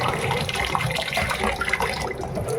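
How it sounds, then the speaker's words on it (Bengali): Rice is rinsed by hand in water, giving a continuous close sloshing and swishing with gurgling splashes and no voices. "আমার এখানে চালটা খুব ধুয়েই যাচ্ছে"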